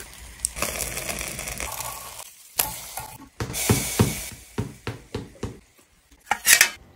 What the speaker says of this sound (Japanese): 開きを焼いていく